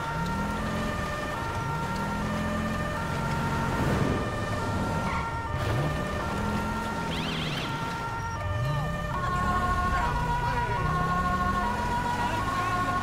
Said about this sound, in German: Erstmal mit Blaulicht und Sirene, danach machen wir das aus.